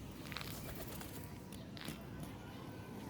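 Pigeons kept as household birds coo softly in low, rolling calls, faint and somewhat distant against a quiet background, with a few brief higher chirps mixed in.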